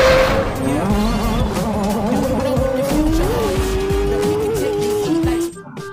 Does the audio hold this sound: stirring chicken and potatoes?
no